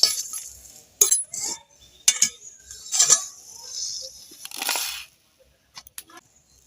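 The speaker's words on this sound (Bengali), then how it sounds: "মশলাটা আমি শিলে আধা ভাঙা করে নেব" Roasted whole spices are coarsely crushed on a flat shil grinding stone, producing several close, gritty scraping and clinking bursts that give way to near-silence with a few faint taps.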